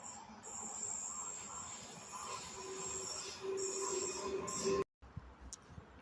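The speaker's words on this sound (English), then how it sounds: "a train passed by" A passing train rumbles steadily with high, sustained wheel squeal rising and falling, loud and close, before the sound cuts off abruptly near the end.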